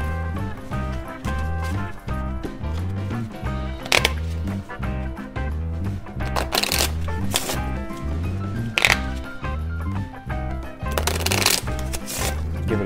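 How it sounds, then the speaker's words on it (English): A deck of playing cards being shuffled over and over during a solitaire game, close riffles and bridges in quick repeated bursts with sharp flutters and taps, no talking. "Give it a good shuffle."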